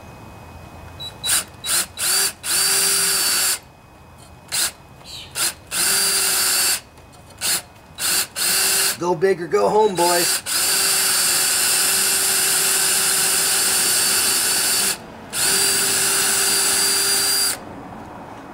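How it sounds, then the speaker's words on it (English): A handheld power drill whines in repeated bursts, starting and stopping as it bores into the cylinder head of a Toro Timemaster lawnmower engine, with one stuttering, wavering stretch mid-way and someone speaking briefly between bursts. "So I put a little piece of tape on the drill bit so I don't drill in too far."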